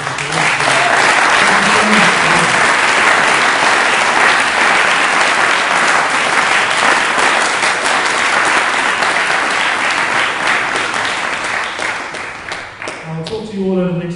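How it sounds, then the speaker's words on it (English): Loud, sustained applause from a youth debate audience on education, steady dense clapping that tapers slightly toward the end. "So another round of applause."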